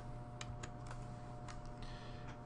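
Light typing on a computer keyboard while entering a surgical preference card name, a few soft scattered key clicks over a steady humming background.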